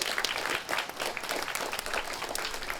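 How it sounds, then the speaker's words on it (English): A small audience breaks into brisk, dense applause for a volunteer, close and steady clapping throughout with no speech over it. "Give Josh a round of applause."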